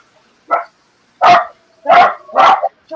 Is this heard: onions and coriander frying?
no